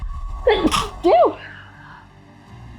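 A person sneezes twice in quick succession, loud and near, followed by a quiet pause.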